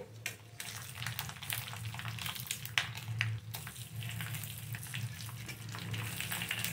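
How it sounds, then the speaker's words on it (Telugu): Dried red chillies frying in a pan give a steady low sizzle with scattered crackles and pops, close and fairly quiet, with no talking. "సో ఇప్పుడు ఎండుమిర్చి వేస్తున్నాను"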